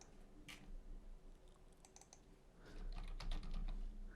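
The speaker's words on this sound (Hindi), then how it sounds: "मेरी टाइपिंग स्पीड थोड़ी स्लो है" Fingers typing on a computer keyboard while writing JavaScript code, a quiet, close run of irregular key clicks in short bursts with brief pauses, busier toward the end, with no talking.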